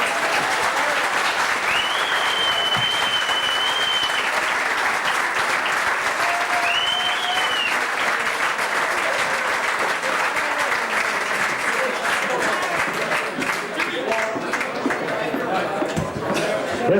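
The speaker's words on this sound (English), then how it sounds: "Give her another applause again there" Sustained audience applause at a tribute evening honouring John Charles Magee, a steady wash of clapping that runs loud and unbroken throughout, with some crowd noise and faint voices mixed in.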